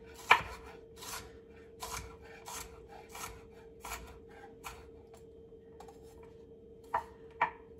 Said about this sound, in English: Just do a rough chop on it.